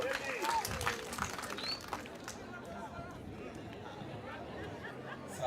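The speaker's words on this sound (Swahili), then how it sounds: "Tumpige makofi." Audience applause at a school gathering in Githunguri, as a crowd claps and chatters in a dense, steady wash of hand claps that gradually thins and softens, with no one speaking over it.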